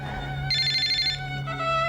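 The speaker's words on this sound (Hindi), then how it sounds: "पता नहीं किसका फोन आ गया इस वक्त" A mobile phone rings indoors, a bright electronic ringtone with sustained tonal notes and a short melodic burst in the middle, loud and close, with no talking over it.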